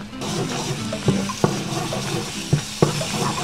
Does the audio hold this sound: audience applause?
no